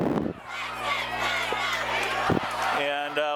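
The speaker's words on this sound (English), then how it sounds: "you hear the Kennedy fans, student section, cheering on their team" Kennedy student section fans cheering at a night high school football game against Bettendorf, a sustained roar of crowd voices and shouting with chant-like tones rising near the end.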